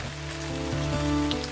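Steady rain falls and patters on a surface, a soft, even hiss running through the whole short stretch, with a faint tonal hum under it and no voices.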